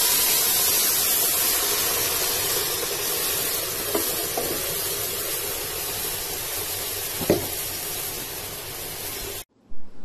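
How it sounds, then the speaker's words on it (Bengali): Steady sizzling of fried onions in a pan as spinach is poured in for a lentil and spinach dish, a continuous bright hiss with a couple of faint stirring knocks, no talking, ending in a sudden cutoff. "আমার পেঁয়াজটা লাল হয়ে গেছে, এখন আমি এর মধ্যে আমার শাকটা ঢেলে দিচ্ছি।"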